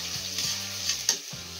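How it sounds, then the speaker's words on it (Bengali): Onions frying in a hot pan for an egg tadka, a steady bright sizzle with soft stirring scrapes and a sharper clink near the end, close and continuous with no talk. "পেঁয়াজগুলো ভালো করে নাড়াচাড়া করে একটু লাল লাল মতন করে নিতে হবে।"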